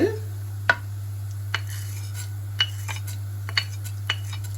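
Roasted lentils are tipped into a pan of frying urad dal, with a few sharp, clear clinks and taps of a utensil against the pan spaced through a steady background hum.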